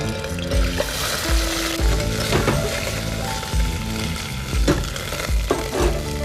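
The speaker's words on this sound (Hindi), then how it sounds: "और अब इसी घी के अंदर will put ginger paste, 1 tablespoon." Ginger paste sizzling and frying in hot ghee, a steady close crackle with stirring scrapes and occasional utensil knocks throughout.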